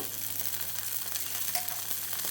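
Rava dosa fries in oil on a hot pan, a steady, fairly quiet sizzle and crackle that continues evenly throughout with no voices.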